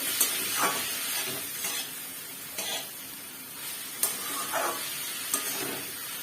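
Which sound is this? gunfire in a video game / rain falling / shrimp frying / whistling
shrimp frying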